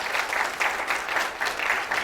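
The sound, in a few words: audience applause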